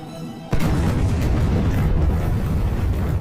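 A film explosion destroying an alchemist's cave laboratory, a sudden loud boom that bursts in and swells into a sustained roaring, rumbling blast filling the scene.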